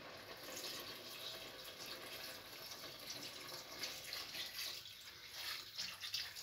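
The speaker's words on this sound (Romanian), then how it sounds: "Adăugăm apă călduță." Lukewarm water is poured into a pot of simmering veal goulash with potatoes, giving a soft, faint, continuous splashing trickle that is quiet and close, with no talk over it.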